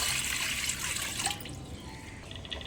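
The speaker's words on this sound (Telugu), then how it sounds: "మనం ఇడ్లీ పాత్రలో వాటర్ ఎలా పోసుకుంటామో అలాగ వాటర్ పోసుకోండి" Water poured into an idli steamer pot, a steady liquid splash and trickle close by, brighter at first then settling into a softer fill, with no talking.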